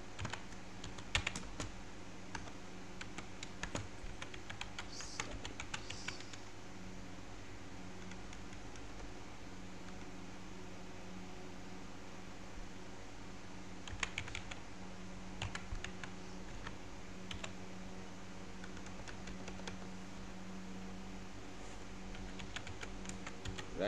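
Someone types an email subject line on a computer keyboard, producing quiet, close, irregular clicking keystrokes in short bursts with pauses, over faint background hiss and no speech.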